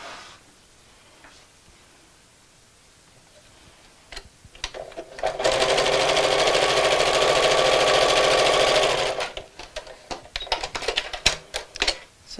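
A sewing machine joins two fabric pieces with a quarter-inch seam, starting with a few clicks and then running in a loud, steady, even burst of about four seconds before stopping, followed by light handling noises.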